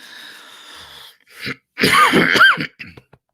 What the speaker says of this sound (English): And you just heard my cough.